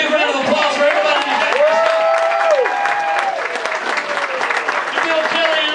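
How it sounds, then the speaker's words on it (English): A crowd at a Halloween costume party applauds loudly and continuously, with cheers and whistles rising over the clapping. "How about a big round of applause for everybody?"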